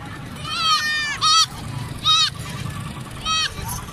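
Goats bleat in three loud, wavering cries at an outdoor goat market, each about half a second long, over a low murmur of crowd noise.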